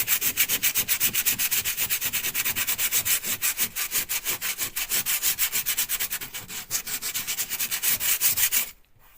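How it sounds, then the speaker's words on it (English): A patched plaster wall being lightly hand sanded, with steady rhythmic back-and-forth rasping strokes, close and fairly loud, that slow slightly and stop near the end. "I'll just give this a light sand again"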